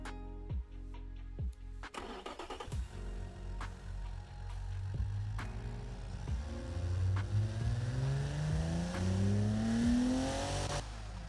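Car engine with a two-baffle exhaust in the game Automation, starting with a few sharp bursts, then revving repeatedly in rising sweeps that climb to a loud, strained peak.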